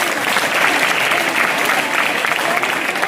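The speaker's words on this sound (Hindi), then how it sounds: "उस बच्चे के लिए एक बार जोरदार तालियां" Loud applause at a girls' senior secondary school board-results ceremony, cheering a student who scored 100 out of 100; a thick, continuous roar of crowd clapping throughout.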